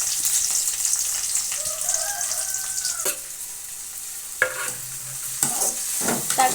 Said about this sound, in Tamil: நறுக்கி வச்ச வெங்காயத்தை போட்டுக்கோங்க.